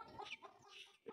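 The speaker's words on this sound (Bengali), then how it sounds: "মুরগিতে ডিম পারছে" A hen clucks repeatedly in a farmyard after laying an egg, short, fairly close bursts of calls across the brief moment.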